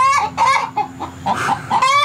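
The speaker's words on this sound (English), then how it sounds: "Let me get them chickens out of there." Chickens near an automated coop door cluck and squawk in short repeated calls, loud and close, several birds overlapping across the moment.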